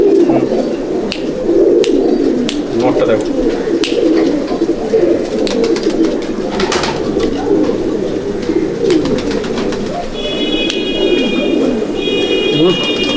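Pigeons in a champion breeder's loft coo in a low, steady murmur throughout, with scattered wing flutters and a faint electronic beeping near the end, while someone talks over them.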